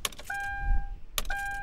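A car warning chime in the low-poly driving game Poly Roam dings twice, a clear two-tone electronic tone repeating about once a second, each ring preceded by a short click and sounding alone and close.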